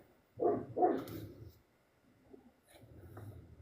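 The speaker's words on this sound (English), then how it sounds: "They're not fighting, they're barking." A dog barks twice in quick succession, fairly close, followed by fainter rustling and a few softer sounds in a quiet outdoor setting.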